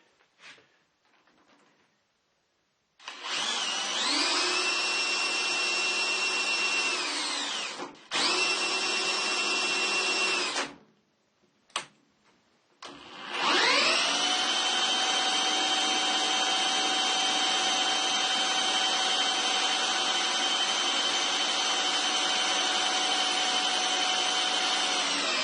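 The headstock spindle of a Harrison M300 lathe spins up to a steady, loud whine, winds down, starts again briefly, then after a short pause runs up once more and holds a constant high hum.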